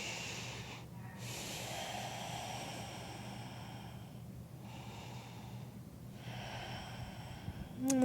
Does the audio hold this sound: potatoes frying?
no